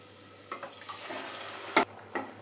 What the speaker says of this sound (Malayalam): ഇനി ഇത് നമുക്ക് സവാള വഴറ്റിയതിലേക്ക് ഒഴിച്ചു കൊടുക്കാം.